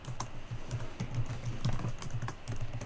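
Rapid, steady typing on a computer keyboard, close and fairly loud, with quick clicking keystrokes in a continuous run.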